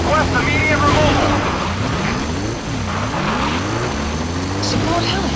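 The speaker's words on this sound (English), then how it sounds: "Support helicopter has arrived." A support helicopter arrives in a PS3 military video game, its loud rotor thrum and engine drone running steadily throughout, with its pitch sweeping up and down while voices talk over it.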